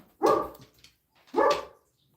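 A dog barks twice, loud and close, with a gap of about a second between the two sharp barks, and no voices during them.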